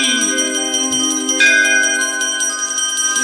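A bell rings out loudly and repeatedly, bright metallic strikes with long ringing overtones sustaining between hits, heard close and alone.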